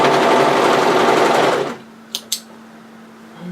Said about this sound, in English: and then I'll overlock all round those sides.